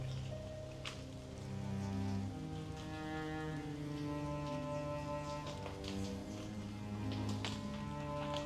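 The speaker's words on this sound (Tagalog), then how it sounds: "Pag ganito namang umuulan" Steady faint rain falls around an abandoned house under two large trees, a soft continuous patter with occasional drips, with no voices.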